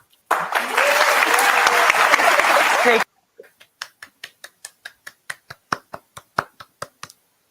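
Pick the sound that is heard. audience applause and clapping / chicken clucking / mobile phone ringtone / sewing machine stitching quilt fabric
audience applause and clapping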